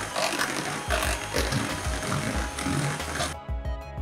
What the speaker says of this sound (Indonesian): Lalu mixer sebentar dengan menggunakan kecepatan rendah hingga tercampur rata.